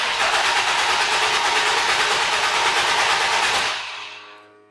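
A car engine being cranked in flood mode with the throttle held wide open, a loud steady whirring drone that runs for almost four seconds and then quickly fades away.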